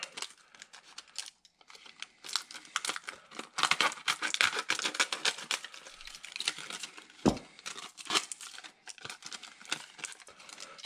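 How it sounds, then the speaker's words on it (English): Tin snips cut through pine wainscoting with close, crackling bursts of crunching and scraping, uneven and effortful, with brief pauses between snips. "So some tin snips here will cut through."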